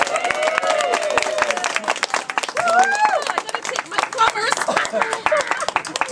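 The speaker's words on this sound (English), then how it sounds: "Could we have a little round of applause for Sylvia here?" Audience applause for an interview guest at a gathering, scattered clapping mixed with crowd noise and overlapping voices, fairly close and steady throughout.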